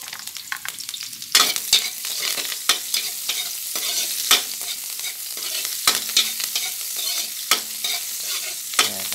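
Garlic and fresh ginger sautéing in a pan, with continuous sizzling and frying plus repeated scraping stirs of a spatula up close, no voices.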